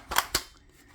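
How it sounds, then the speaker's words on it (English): Magazine seating into a Meridian AK-101 rifle, with two sharp metallic clicks in quick succession, close and crisp, followed by quiet. "You can hear the audible click."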